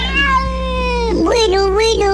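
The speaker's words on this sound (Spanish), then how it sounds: "Tranquilo, gato." A cat meows close up in one drawn-out, wavering cry that rises and bends in pitch, over a low steady hum.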